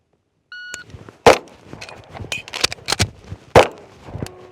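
A shot timer beeps once, then an Atlas Gunworks Erebus pistol fires a rapid string of sharp, loud shots with uneven spacing, echoing on a range.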